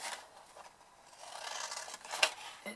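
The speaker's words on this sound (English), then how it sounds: "So you just cut down one side, cut these wedges out" Scissors cutting wedges out of the sides of a cardboard gift box, faint close snips and soft scraping over about three seconds, with one sharper snip near the end.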